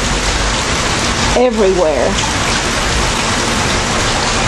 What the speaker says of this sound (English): It's still raining so hard that I can't actually go off the porch to film